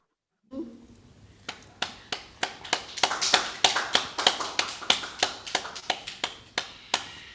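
Audience at a party ceremony unveiling a Bung Karno statue and PDI Perjuangan school and offices, clapping in sharp rhythmic unison that starts sparse and builds into steady, loud, close beats without talk.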